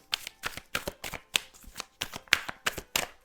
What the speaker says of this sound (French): Je vais la remettre comme ça parce que c'est une carte qu'on ne peut pas montrer.